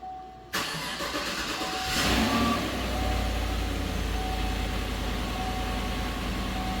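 A 2014 GM truck engine cranks and catches, then settles into a steady, loud idle close by, with a brief rise in revs as it fires.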